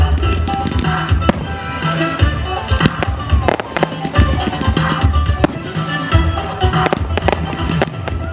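A fireworks display with a Rio Olympics theme booms over the sky of Fontenay, with loud, irregular bangs and crackling bursts going off in quick succession throughout.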